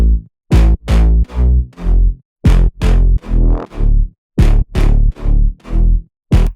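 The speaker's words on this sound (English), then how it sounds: "I have this little growl that just accentuates the bass a bit." Tech house sub bass layered with an overdriven, distorted growl, playing a punchy chopped riff of short repeated notes with brief gaps, loud and alone without any voice.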